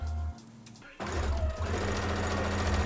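A sewing machine hems the edges of corset lining pieces, starting faintly, then after a brief pause running loud and steady at close range for the rest of the stretch.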